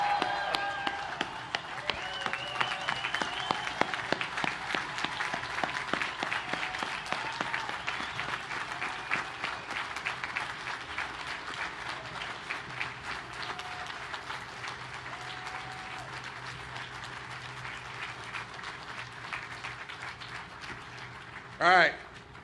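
Sustained audience applause and cheering for sailors at the commissioning ceremony of the destroyer USS Jack H. Lucas (DDG 125), a dense crowd of clapping that holds steady and slowly thins, ending with a brief loud burst.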